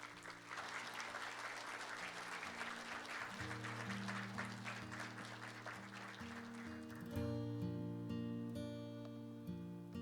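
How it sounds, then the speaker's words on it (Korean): Sustained audience applause at a Human Rights Day ceremony marking the 74th anniversary of the Universal Declaration of Human Rights, dense clapping throughout with music tones rising underneath, no speech. "지난 20여 년간 여러분과 함께 아름다운 약속을 지켜온 성우 양지훈 선생님에게 따뜻한 박수를 부탁드립니다."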